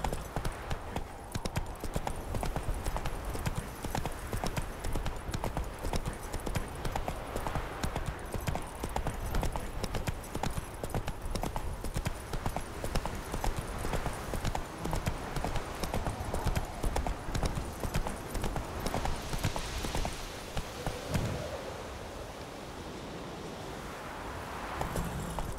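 Roach, the horse from The Witcher 3, gallops with fast, steady hoofbeats that pound on continuously and close up, easing slightly toward the end.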